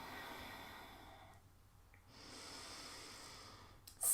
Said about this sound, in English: Begin to take a few deep breaths here